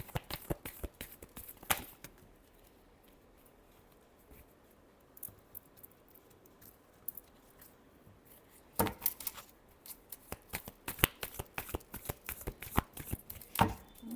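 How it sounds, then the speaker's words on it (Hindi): A tarot deck is shuffled by hand in quick bursts of crisp, rapid card riffles and taps, busy at the start and again in the second half, with a quiet pause between and no talking. "Last shuffle."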